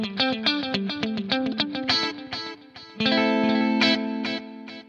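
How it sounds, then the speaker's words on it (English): An electric guitar through a BOSS 500 series pedal set to modulated delay with high depth and low rate, a quick run of picked notes then a sustained chord trailing subtle wavering echoes, clean and close. "I like quite a high depth and a low rate for a modulated delay."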